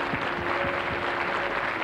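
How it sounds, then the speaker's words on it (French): A television studio audience applauds during a French children's talent show, a brief steady wash of clapping with no voices. "On applaudit très fort cette petite fille"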